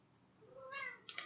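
A house cat gives one faint, rising meow, ending in a couple of short clicks, heard alone and quietly.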